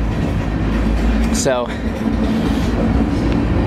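A freight train rolls along the rails through the American West, a continuous low rumble and rattle heard from aboard, with a brief squealing sweep midway and a short spoken word near the start.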